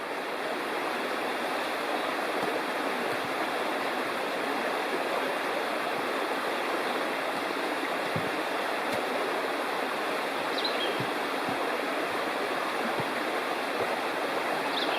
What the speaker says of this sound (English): Beautiful creek.